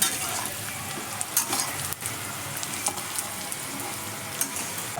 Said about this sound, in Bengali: রাত্রেবেলায় কালো জিরে দিয়ে আলুর তরকারি করছি এখানে